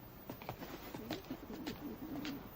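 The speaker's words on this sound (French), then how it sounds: "Une cage pour mes pigeons." Pigeons coo softly near a pigeon cage, with a short run of low, rolling coos repeating over a faint background hum.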